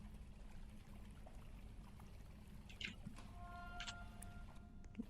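Strong water currents in the Roblox horror game Before Truth, a soft steady rushing and trickling with a few sharper splashy bursts and a faint tonal hum in the background, fairly quiet throughout.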